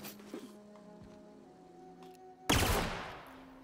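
A shock cannon fires in the video game The Outer Worlds, a sudden loud energy blast bursting in after a quieter stretch of game ambience and tones, crackling and sustained to the end.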